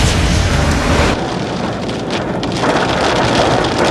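Heavy rain pours down at night in Quezon City, a loud, dense, continuous hiss and roar with a brief dip in intensity partway through, no voices present.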